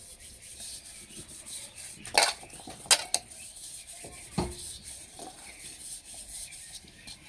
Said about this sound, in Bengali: বাটিতে ভালো করে তেল মাখিয়ে নেব।